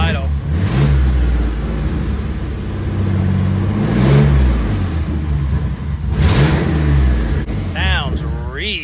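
Twin-turbo engine in a 1965 Ford Mustang wide-body hot rod, revving in repeated surges and failing to settle into an idle, loud and close, with people talking over it.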